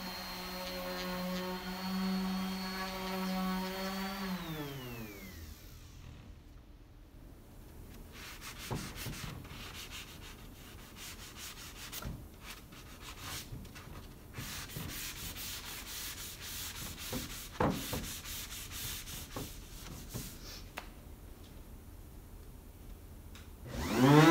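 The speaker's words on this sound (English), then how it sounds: "just sand until none of the shine is remaining" Steady rasping sandpaper strokes rub back and forth across a hard laminate furniture surface for a long stretch, close up, after a descending mechanical whine fades out.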